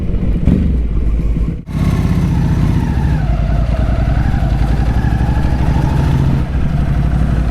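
A 2006 Ducati 749 motorcycle engine runs loud and close, a rough, throbbing drone with a brief cut near the two-second mark before it picks back up and holds a steady roar.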